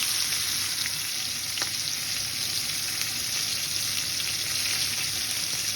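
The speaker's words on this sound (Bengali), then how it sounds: "এখন এখানে আমি একটা পেঁয়াজ দিয়ে দিলাম" Onion frying in hot oil in a pan after fish has been cooked, a steady close sizzle with a faint stir or two and no talk.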